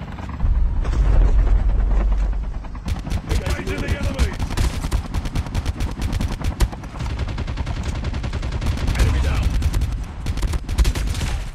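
Dense automatic gunfire in the Call of Duty Mobile video game, loud and continuous with rapid crackling bursts for over ten seconds, with game music and voices faintly underneath.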